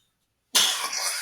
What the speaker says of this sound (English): Sorry about the little cough, guys.